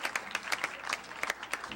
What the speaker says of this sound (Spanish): queremos darle un fuerte aplauso a todos ustedes,